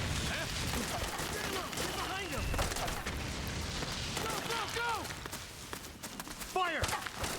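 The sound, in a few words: gunfire in the video game Metal Gear Solid 4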